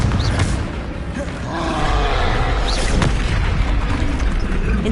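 A Confringo blasting curse explodes in Hogwarts Legacy, a loud rumbling boom with a sustained roar that swells after the first second and carries on to the end, with faint voices mixed in.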